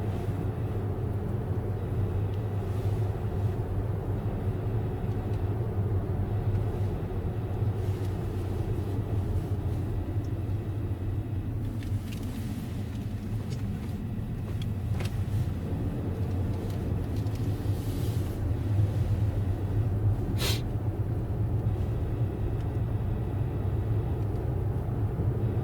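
A car's low, steady engine and road rumble continues throughout as it drives away from a snowy area, with a few faint clicks and a brief sharp tap partway through.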